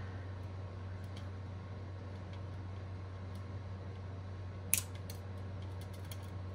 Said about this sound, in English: I have to just cut off a few links here because I got a little bit off.